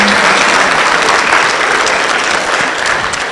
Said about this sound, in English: Let's keep clapping until he gets to his seat.